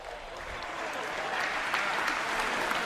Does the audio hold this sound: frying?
no